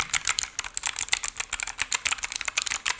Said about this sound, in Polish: klawiatura rzeczywiście ma takie kliknięcie, co zaraz możecie usłyszeć